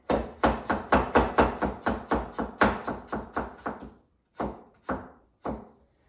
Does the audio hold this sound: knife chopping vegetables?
yes